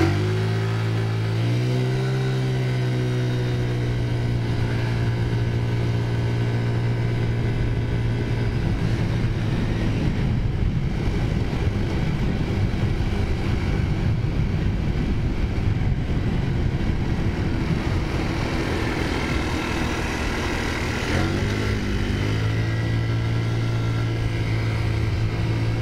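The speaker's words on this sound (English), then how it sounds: "This is a good scooter cruising town." A Taotao scooter engine hums steadily while cruising through town, its tone climbing and falling as it speeds up and slows, with a broad wash of rushing air in the middle stretch.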